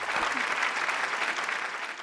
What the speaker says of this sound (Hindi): जोरदार तालियां मिसेस कौशिक के लिए